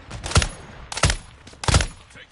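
Three sharp, loud gunshot bursts in Call of Duty 2, spaced roughly evenly about two-thirds of a second apart, each a crisp crack with a brief tail, with quieter background between them.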